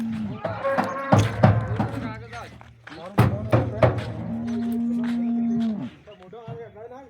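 Cows being loaded onto a vehicle for sale in Jamnagar let out several loud, close moos, one long drawn-out call near the end, among thumps and knocks of hooves and metal.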